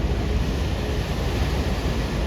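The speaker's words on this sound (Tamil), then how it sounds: "இது வரைக்குமே தண்ணி வந்து நிற்கிது ரோட்டை பிடிச்சிட்டு போகுது" Kaveri river floodwater near Mettur Dam spreads across and flows over a road, giving a steady, loud broadband rush of water that continues without a break and with no voices.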